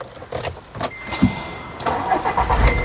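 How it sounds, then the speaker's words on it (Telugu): A 2011/12 Volkswagen Vento Highline starts on a single crank: a brief starter whir and keys jangling give way to the engine catching and settling into a low, steady idle, heard close from inside the car. "సింగిల్ సెల్ఫ్లో కార్ స్టార్ట్ అవుతుంది ఎటువంటి స్టార్టింగ్ ట్రబుల్ అయితే లేదు"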